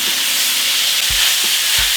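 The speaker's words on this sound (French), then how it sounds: "On va faire suer les oignons. Avec la vapeur des oignons, les brocolis vont cuire." Onions and broccoli stir-frying in a pan with a splash of peanut oil for homemade beef and broccoli: a loud, dense, continuous sizzle close up, with a couple of dull low knocks from tossing or stirring.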